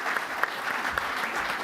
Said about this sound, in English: a round of applause, please, for Steve, for Eddie, and for Jamie